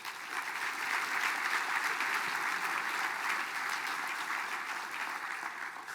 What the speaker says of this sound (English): So can we give the former leaders a round of applause